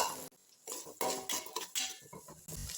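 Shallots and garlic sautéing in oil in a pan for a village-style fish gravy, heard as clinking spoon-and-pan scrapes and stirring in separated bursts with short pauses, fairly close and with no voices.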